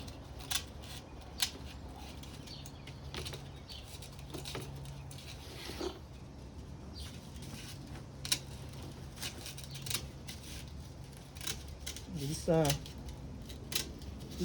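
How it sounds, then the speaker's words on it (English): Scissors snip repeatedly through tough 304 stainless steel window screen mesh during a raccoon-damage screen repair, giving sharp crisp cuts at irregular intervals amid rustling handling noise. "I'm just going to cut with the scissors"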